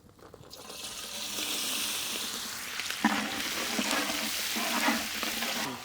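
Garlic frying in hot oil in a pan while making chicken lollipops, a steady loud sizzle that builds and swells with stirring, with no one talking.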